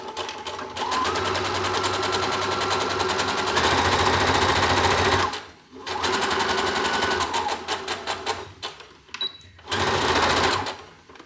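Sewing machine stitching fabric, a loud continuous whirring run, a short pause, then another forward run with a back stitch, choppier bursts, and a final burst. The machine is heard up close with no talking.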